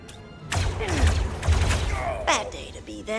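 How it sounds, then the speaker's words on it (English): A gun fires in the Star Wars: Zero Company video game, a burst of loud booming shots with rumbling impacts that overlap game effects and a voice talking. "I may as well fire the gun, I guess."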